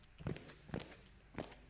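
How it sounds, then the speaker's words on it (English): Three soft footsteps in the Goodnight Pan Pan video game, spaced unevenly and fairly close, each a muffled thud against a quiet background. "Those her footsteps?"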